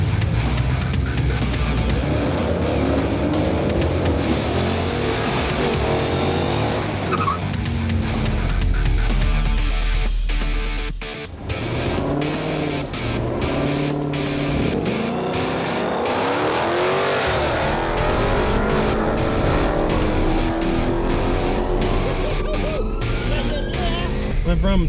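A modified Mustang makes a drag racing pass, its engine roaring loudly through rising, shifting revs with a brief dip between gears, close and powerful for the whole run.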